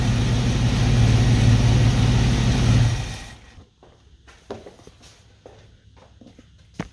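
A 1983 Buick Regal engine with a newly replaced fuel pump runs with a steady loud rumble for about three seconds, then cuts off, leaving quiet shuffling and a few soft knocks.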